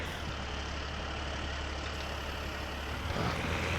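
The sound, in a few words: tractor engine in farming video game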